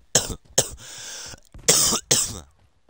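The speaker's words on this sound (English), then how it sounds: "Coughing sucks." A run of harsh, explosive coughs close to the mic, in a few bursts with short pauses between them, and no talking.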